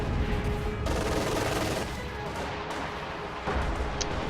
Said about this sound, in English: Second barrage going off as well.